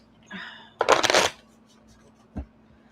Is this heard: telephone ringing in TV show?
no